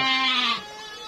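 A single goat at a goat farm gives one loud, close bleat that wavers and then trails off into quiet farm background.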